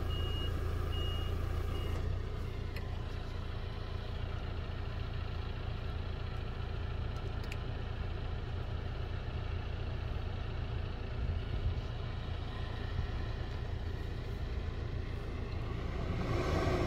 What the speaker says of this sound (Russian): Едем за трактором и будем снимать, как заходит на опрыскивание.